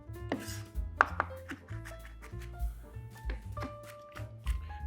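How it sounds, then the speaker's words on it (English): Garlic being roughly chopped with a knife on a cutting board in a small kitchen, a steady series of close, sharp chops with uneven rhythm. "so now we're just going to roughly chop this"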